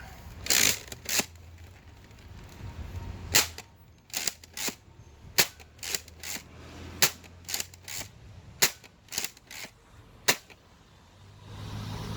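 A Nerf K26 Twin Shock blaster fires Accu-fake and Accu-strike mega darts in a series of about a dozen sharp, close pops, some in quick pairs and others spaced out, with quiet gaps between.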